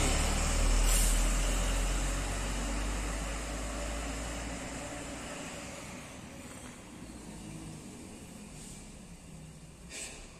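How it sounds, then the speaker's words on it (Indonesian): A Putra Mandiri bus at the Mangkang bus terminal rumbles loudly nearby, then its engine noise slowly fades, and brief hisses of air brakes puff out a few times. "Ini ada bis Putra Mandiri ini berangkat ke arah Surabaya."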